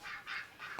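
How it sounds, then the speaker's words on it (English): Geese honking indoors in a hall, three short, harsh honks in quick succession, faint and alone. "Why, the bloody geese in the hall, Maureen"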